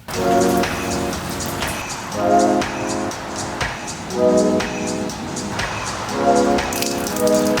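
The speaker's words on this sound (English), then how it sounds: "It is raining today" Steady rain falls throughout as a continuous, fairly loud wash of drops, with a recurring tonal hum rising and falling in regular blocks behind it.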